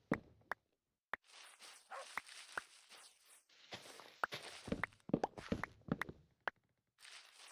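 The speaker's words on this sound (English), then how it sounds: "your dog sounds don't sound accurate for your body" Minecraft dogs in a hardcore survival world give sharp barks and yips, some whimpering, mixed with soft in-game footsteps, faint and intermittent with gaps of silence.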